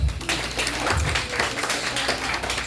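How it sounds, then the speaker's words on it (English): Round of applause from an audience at a community panel event in Brooklyn, a steady wash of claps filling the room at moderate loudness with no talk over it. "give yourself a round of applause just for showing up"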